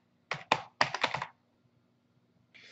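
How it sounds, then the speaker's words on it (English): Keyboard keys tapped in a quick burst of about six clicks while searching a component toolbar, then a pause and a faint further tap near the end; close and fairly quiet, with no talking. "In the component toolbar search box, type trigger."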